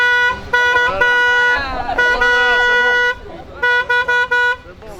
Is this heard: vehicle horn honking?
yes